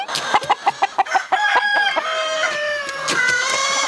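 A rooster crows amid a series of quick, sharp clucks from chickens, close and fairly loud, with no talking.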